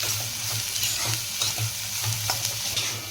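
Chopped carrot and cabbage stir-fried in a hot pan for egg fried rice, a steady sizzle with repeated scraping strokes of a spatula at a regular rhythm, close and fairly loud, no voices.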